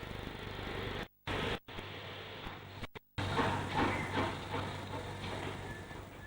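A WD steam locomotive running light to the shed at York after leaving its train in sidings, giving a steady mechanical rumble and chuff with a few abrupt dropouts, at moderate distance.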